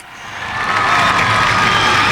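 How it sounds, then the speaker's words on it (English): Race fans at Motordrome Speedway raise a swelling roar of cheering and applause that builds over a couple of seconds and holds loud and steady, a broad crowd wash from the grandstands. "Race fans, big round of applause."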